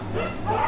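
Dogs barking furiously, a brief close burst of yipping and whimpering barks lasting under a second over a steady low hum.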